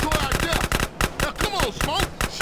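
Rapid bursts of gunfire ring out during a car chase in GTA: San Andreas, loud and dense with sharp repeated shots, while a voice talks over the action.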